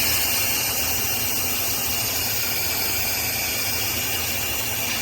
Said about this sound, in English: Don't want to open this Instant Pot until all the steam gets released and it gets to room temperature pressure, or room pressure.